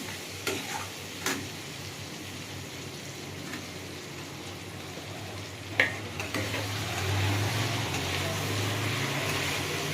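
Tomato goes into a frying fish curry in a pan, giving a steady close sizzle with a few brief clinks of utensils and a louder stir near the middle, with no one speaking.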